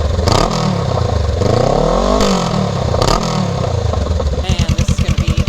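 Honda Rebel motorcycle fitted with a Shorty GP exhaust with the baffle in, idling and blipping the throttle in rising and falling revs, loud and close, ending in a quick lumpy putter.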